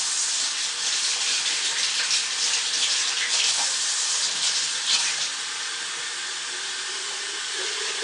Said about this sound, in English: this is just tap water from the sink